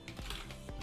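A few quick keystrokes tap on a computer keyboard, brief and soft, over a faint background hum.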